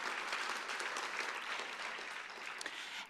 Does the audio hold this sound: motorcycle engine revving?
no